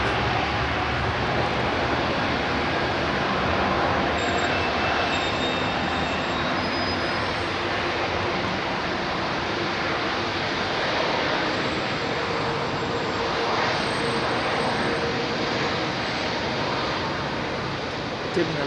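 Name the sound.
airplane taking off at London Heathrow Airport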